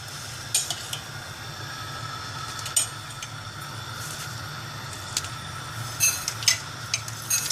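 Mustard seeds crackle and sizzle in hot ghee in a small pan while tempering for rasam, a soft steady frying hiss punctuated by sharp little pops and light utensil clinks.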